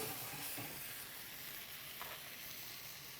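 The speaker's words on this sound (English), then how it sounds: "So we'll just simmer that, let that saute," Crab sautés in a pan with tamarind juice, giving a faint, steady sizzling hiss with a few soft clinks, heard alone without talk.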